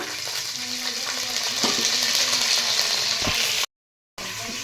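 Green chillies dropped into hot oil for ginger-lemon chitranna give a steady, loud frying sizzle with faint stirring clicks, broken by a brief dropout near the end, with no talking.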